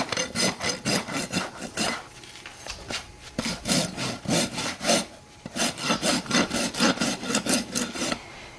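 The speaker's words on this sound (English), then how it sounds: "Again, you hold your rasp at this angle." A farrier's rasp files a horse's hoof wall in bursts of rapid, rhythmic rough strokes, close and loud, with brief pauses between sets of strokes.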